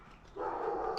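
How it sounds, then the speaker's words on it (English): A neighbours' dog gives a single short bark at moderate distance, fairly faint against quiet outdoor background. "Neighbors' dogs."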